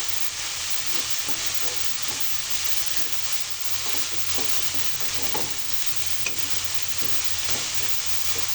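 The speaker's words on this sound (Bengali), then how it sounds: "এখন লবণটা সবজিগুলোর দুটো ভালোভাবে মিশিয়ে নেব" Okra and shrimp stirred with salt in a frying pan for a Bengali okra fry, a steady close sizzle with repeated scraping strokes of the spoon throughout, no voices.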